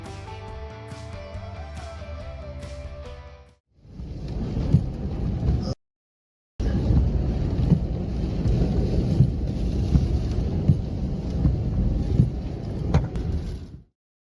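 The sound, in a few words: thunderstorm with strong winds and heavy rain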